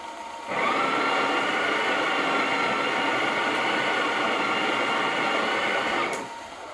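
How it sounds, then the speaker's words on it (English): A Breville Oracle Touch BES990 coffee grinder grinds beans in a loud, steady buzzing whir lasting about five and a half seconds. It starts abruptly and stops cleanly, close by and alone. "just grinding a few seconds just to remove the old grind size"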